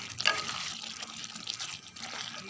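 Katla fish head muri ghonto with rice is stirred in a pot, a faint, wet, sloshing swish that lasts a couple of seconds up close.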